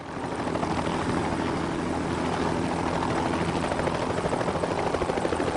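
Helicopter flying near power lines, its rotor beating in a steady loud thrum with engine whine, continuous and close throughout.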